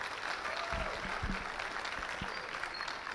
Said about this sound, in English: Can you give me a better applause than that?